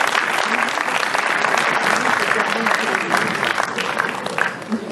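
An audience at a short film festival awards evening applauds the jury's announcement of the winners, a loud, sustained wash of clapping from a crowd filling the room.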